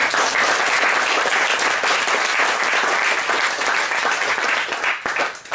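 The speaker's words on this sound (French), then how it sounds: "je pense qu'on peut les applaudir" Steady, loud applause from a seated audience at a talk, dense and sustained throughout, tapering slightly at the very end with no speech over it.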